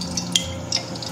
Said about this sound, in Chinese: 锅烧热，我们倒入一些食用油。